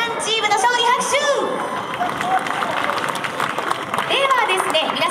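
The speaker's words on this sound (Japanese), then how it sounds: "拍手。" Audience clapping for the winning team at a stage event, mixed with crowd chatter and excited voices over the steady patter.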